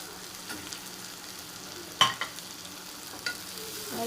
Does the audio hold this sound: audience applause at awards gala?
no